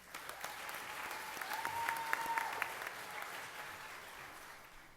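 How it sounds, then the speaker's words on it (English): Faint, even applause from the audience at a 2018 FFA banquet, soft and distant, with a brief thin whistle-like tone rising over the middle of the clapping. "Let's give the winning Green Hand family a round of applause"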